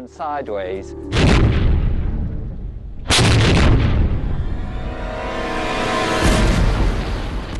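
Two heavy booms, a naval cannon blast and a cannonball striking and splintering wood a couple of seconds apart, each followed by a long rumbling, splintering decay.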